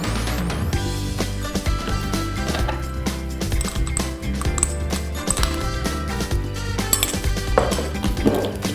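A spoon clinks and scrapes against a bowl while stirring a dough of egg mixture, eggs, sugar and a pinch of salt, producing a busy, fairly loud run of irregular metallic taps and knocks with no talking.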